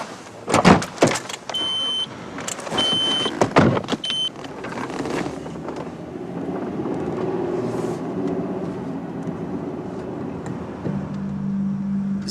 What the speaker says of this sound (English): Is that Rachel's car?